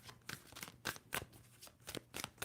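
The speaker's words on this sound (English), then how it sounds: "2 more shuffles for Sagittarius." A tarot deck being shuffled by hand, a rapid series of crisp riffling bursts about every quarter second, close and fairly loud with no voice over it.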